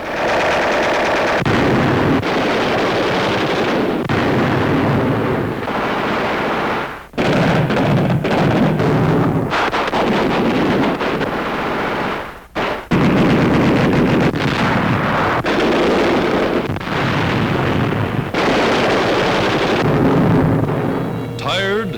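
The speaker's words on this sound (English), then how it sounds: "With field mortars and Tommy guns, they blast away at the slightest sound." Field mortars and Tommy guns fire in jungle warfare, loud bursts of automatic gunfire and heavy blasts arriving in repeated clusters with short breaks between them, close and harsh.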